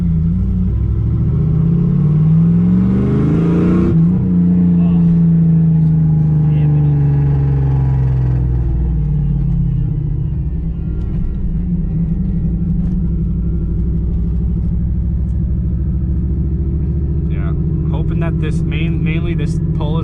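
A V8-swapped Volvo car on a Holley Terminator X engine management system drives steadily down a road, a loud continuous engine rumble with a brief rev early on, heard from inside the cabin.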